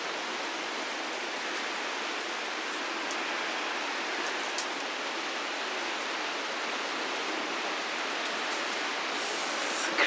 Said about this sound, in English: The most amazing and beautiful rain I'm witnessing ever.